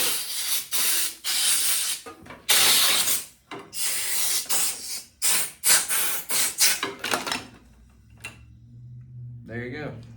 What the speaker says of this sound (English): if you stick the air nozzle into the grip, like so, give it some air and it'll come off